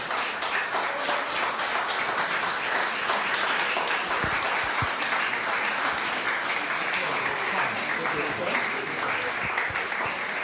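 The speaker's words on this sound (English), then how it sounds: "So will you have a big round of applause, please?" An audience applauds throughout a tenor and piano concert in a church, giving steady, dense clapping that holds at an even level, with a few voices faintly underneath.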